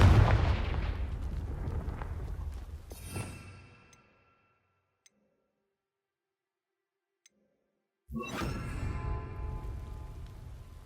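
Blasting spell explosion from the Confringo curse in Hogwarts Legacy, a loud booming burst that decays over a few seconds into silence with faint ticks, then a second heavy blast rumbles in.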